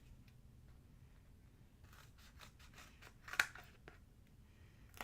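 Scissors snipping through rigid cardstock around a metal die for a shaker card, a series of soft close cuts with one sharper, louder snip near the end, no voice.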